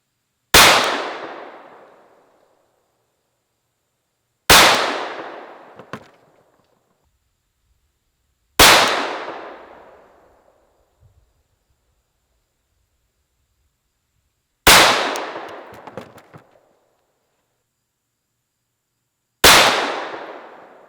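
Five sharp, loud gunshots from 9mm +P handloads with Speer Gold Dot bullets ring out outdoors, spaced roughly four to five seconds apart, each snapping hard and decaying into a short echoing tail.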